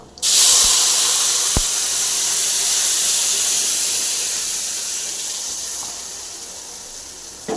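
A loud, sudden hiss as masala hits hot oil that already holds spluttered mustard seeds and curry leaves, for a potato and horse gram kara kuzhambu; the hiss rises quickly, then fades slowly over several seconds.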